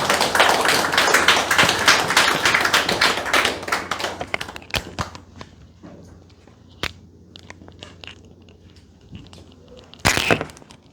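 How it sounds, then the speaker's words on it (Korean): Lively audience applause welcomes Kim Kook-sung to the stage at a lecture forum, many close hand claps at first, then thinning to scattered claps and thumps, with a final short clatter near the end. "우리 큰 박수로 좀 맞아주시기 바라겠습니다"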